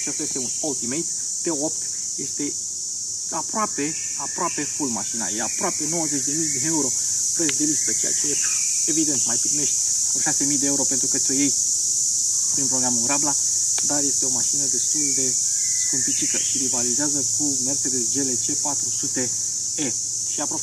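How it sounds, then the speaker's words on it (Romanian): Cicadas in mating season keep up a loud, steady high-pitched buzz that runs through the whole stretch, continuous under someone talking at length about a car. "acum sunt cicadele în sezonul de împerechiere și s-ar putea să audă un mic bâzâi"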